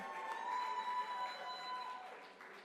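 Audience at a public sector debate competition grand final cheering and applauding champions, a steady wash of crowd noise with whistle-like tones, moderately distant, continuous throughout.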